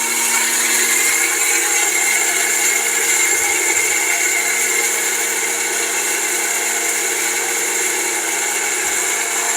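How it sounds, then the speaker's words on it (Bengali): A Philips blender grinds dry rice into powder with a constant, loud, high-pitched motor whine and a dense rattling hiss that runs steadily throughout, with no voices. "দেখেন একটা না পাঁচ মিনিট চালানোর মতন ক্ষমতা আছে এই ব্লেন্ডারে"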